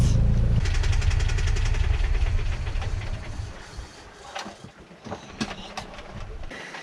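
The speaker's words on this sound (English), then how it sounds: "Turn the engine off and then sail." A sailboat's engine runs on an Atlantic passage from Jamaica toward Panama, a low, steady rumbling drone that fades after a few seconds, leaving quieter knocks and clatter.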